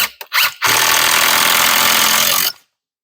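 A power driver runs a fastener into a wet 2x4 for deck stair stringers, a few short revving bursts followed by a steady loud whir of roughly two seconds that stops abruptly.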